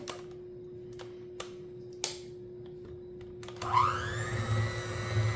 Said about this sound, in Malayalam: ഞാനൊന്ന് ഇത് വെച്ചിട്ട് ബീറ്റർ വെച്ചിട്ട് തന്നെ ഒന്ന് ബീറ്റ് ചെയ്യാണേ